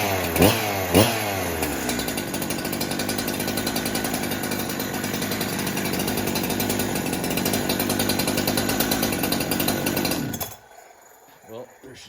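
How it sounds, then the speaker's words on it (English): A Holzforma G372xp chainsaw, fresh out of the box, catches after a couple of pulls and runs loudly with a buzzing, rattling idle for about ten seconds before cutting off abruptly, with a brief faint voice afterward. "So, out of the box, and started her up."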